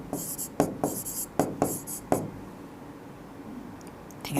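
Pen or marker writing on paper while working a maths problem on sets, with a series of short scratchy strokes in quick bursts, fairly close, followed by a quieter pause.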